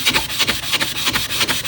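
Sandpaper lightly scuffs a cured resin bloom tray, making rhythmic back-and-forth rasping strokes, about two per second. The strokes are close and moderately loud, with no talking.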